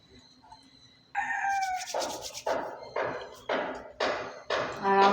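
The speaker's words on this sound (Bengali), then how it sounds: "আর আমাদের পাশের বাড়ি যে মোরগটা, সেটা অল টাইমই ডাকতে থাকে।" A neighbouring household's rooster crows several times in a row, each call loud, fairly close and rising then trailing off, over quiet outdoor background.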